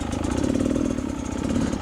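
A Beta 300RR two-stroke motorcycle engine runs close by with a loud, steady, buzzy throb and a fast pulsing rhythm, heard alone.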